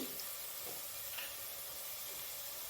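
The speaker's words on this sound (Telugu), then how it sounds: "ఆనియన్స్ బాగా ఫ్రై అయిపోయినాయి, కలర్ వచ్చేసినాయి" Onions frying in oil for a vegetable biryani, giving a steady, soft sizzle with faint stirring scrapes, fairly quiet and with no one talking.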